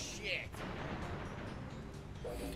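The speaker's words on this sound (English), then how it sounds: "lots of explosions though" Explosions in the Crash Bandicoot 2 video game, a dense continuous rumbling blast texture with crackling bursts, steady and loud throughout, with players' voices mixed into the game sound.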